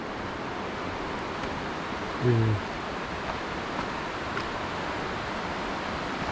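A river flows steadily through the bottom of a canyon, heard as a broad, constant rushing wash. The water sounds close and even throughout, with a brief low thud partway through.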